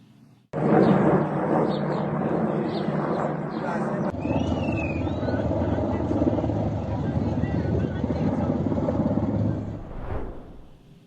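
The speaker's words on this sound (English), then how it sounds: "images were also released of American planes and helicopters flying in the skies of Char Mahal and Bakhtiari" American military helicopters and planes fly overhead in the skies of Chaharmahal and Bakhtiari, Iran, a loud continuous rotor and engine roar that swells in abruptly, holds steady, shifts partway through, then fades out.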